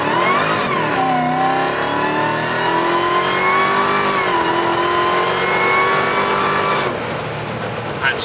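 Hellcat-powered Jeep Gladiator pickup accelerating hard from a launch, a loud sustained engine roar climbing in pitch through the gears for several seconds, with brief tire slip at the start, close and dominant.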